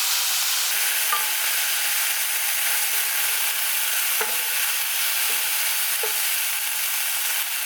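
Beef pieces searing in a pan for carne guisada give a steady, loud broadband sizzle throughout, with a few faint clinks and scrapes scattered across it and no voices.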